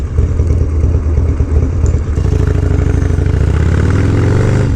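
A 2001 Harley-Davidson Dyna FXDX motorcycle being ridden, its engine thrumming loud and steady close by with a low mechanical clatter, with no talking.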